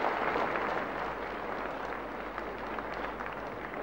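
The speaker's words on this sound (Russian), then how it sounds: "я признателен вам за аплодисменты" Concert audience applauding steadily throughout, a dense, even wash of many hands clapping at moderate loudness with no voices over it, at a 1991 Russian song evening.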